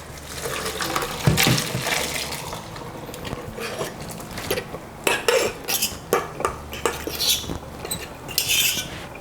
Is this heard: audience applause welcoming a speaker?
no